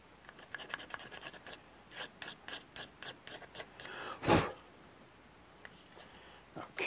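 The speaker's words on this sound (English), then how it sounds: "we'll use the hobby file to sand down the lines of the flashing of the seam." A hobby file rasps along the seam flashing of a resin cast of an African wildcat skull, giving quick repeated scraping strokes up close, with one louder scrape partway through.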